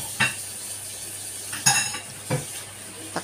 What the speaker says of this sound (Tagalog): saka natin ilagay ang tokwa, syempre.